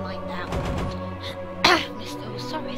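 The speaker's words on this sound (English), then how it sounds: "Sorry about the cough." A single sharp cough partway through, close and loud, breaking over a background of steady music and speech.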